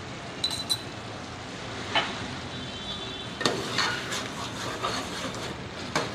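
Whole white cumin and masala frying in a pan for an aloo chicken curry, with a steady close sizzle under occasional clinks and scrapes of a stirring spoon, and no voices.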